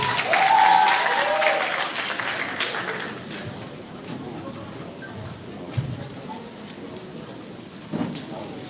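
Applause from a live audience at a 2019 performance event, loud and dense at first, then thinning into scattered clapping and crowd murmur that fades over several seconds.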